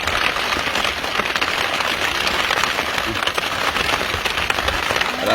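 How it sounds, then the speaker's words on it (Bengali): Heavy rain pours down around a small country boat in the Sundarbans, heard from inside as a dense, continuous hiss and patter that holds steady and loud throughout. "বাইরে ঝুম বৃষ্টি।"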